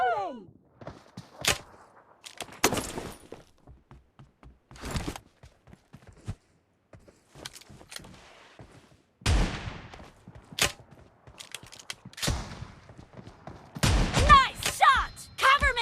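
Shotgun fire in a video game: a series of sharp, separate blasts spaced irregularly, with clustered shots near the end, mixed with in-game footsteps, thuds and brief character voice callouts.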